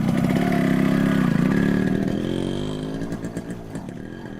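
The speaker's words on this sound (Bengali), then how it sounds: "বাইকে জোরে কিক মেরে" A motorcycle engine runs loudly and close, buzzing steadily before its note shifts and fades slightly as the bike pulls away.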